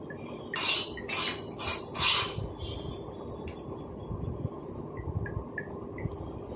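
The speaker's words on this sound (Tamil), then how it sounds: "அந்த சக்கைகள்லாம் போட்டு இந்த மாதிரி ப்ரெஸ் பண்ணி விட்டிங்கன்னா எல்லாமே நல்லா வடிஞ்சு வந்துடும்" Black seed residue pressed through a strainer to drain homemade hair oil makes a few close scraping, clinking strokes of metal against the mesh, followed by softer rubbing and faint dripping.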